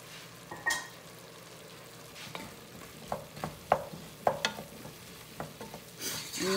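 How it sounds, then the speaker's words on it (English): Flour stirred and cooking in a pot for corn chowder, with soft scraping strokes and a low sizzle in a steady, irregular rhythm, close and fairly quiet, with no talking. "You wanna cook the flour just for a little bit so you don't have any raw flour taste in your soup."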